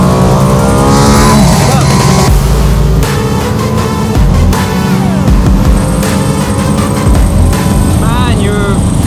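A Mercedes-AMG race car drives hard on a track, its engine roaring loudly and revving continuously with gear changes, close and dominant, while a person talks over it.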